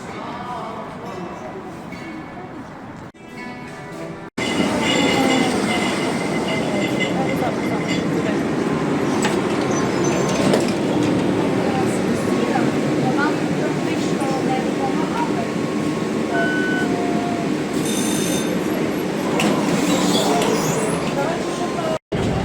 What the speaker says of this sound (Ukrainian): Ось зараз ми сядемо на метро і прокатаємося до станції Міцкевич.